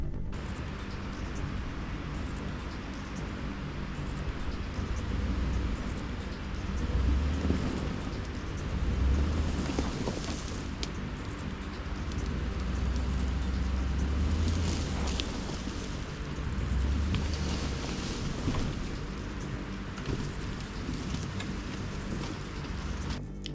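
Truck grinding its way up a slippery, snow-covered road closed to vehicles in Vermont, a steady low engine drone with wind and crunching tire noise, sustained throughout with small surges.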